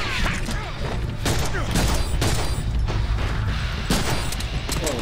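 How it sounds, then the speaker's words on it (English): Rapid, loud gunfire from a Deadpool action video game, with continuous shots and crashing impacts over a dense, chaotic din of combat noise. "I'm shooting, hang on."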